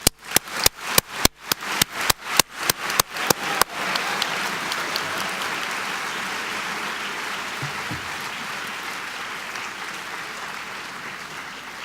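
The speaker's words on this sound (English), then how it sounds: "let us give a round of applause to thank all our professors and tutors" Graduation audience in a commencement hall opens with a few seconds of sharp, rhythmic unison claps, then breaks into dense, sustained applause that carries on steadily at moderate volume.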